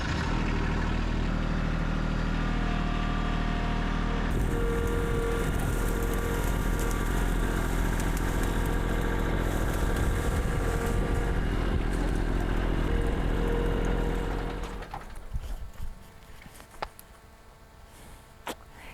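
Tractor engine running steadily and loudly close by in a garden while branches are cleared, a constant rumbling drone that continues for most of the stretch before dropping away into quieter clatter near the end.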